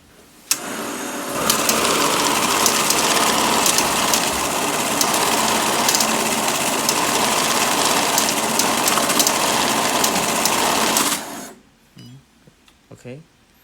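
A banknote counting machine whirs steadily as it sorts a stack of bills by face and orientation, a dense continuous mechanical rattle lasting about ten seconds before stopping abruptly, followed by a few faint clicks.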